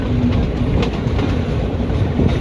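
A passenger train on the Trincomalee to Colombo line runs along railway tracks, a loud steady rumble and roar with faint rhythmic wheel clatter, heard from on board and continuous throughout.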